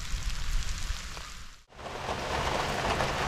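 Heavy rain pours down steadily outdoors at the start of a monsoon, a dense hiss of drops on surfaces that briefly dips before swelling even harder, with no voices.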